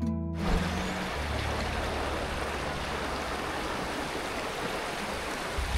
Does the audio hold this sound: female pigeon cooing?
no